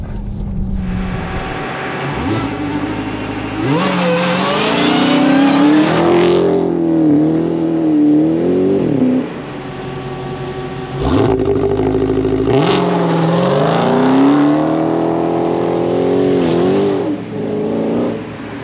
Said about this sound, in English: on the road with the Charger SRT Hellcat Redeye